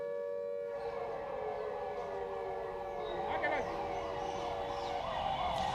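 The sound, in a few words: civil defense air raid sirens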